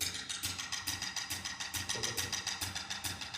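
Close jazz drums lay down a steady, swinging triplet pattern of crisp cymbal and snare hits over soft low thumps, repeating evenly for several seconds without any voice.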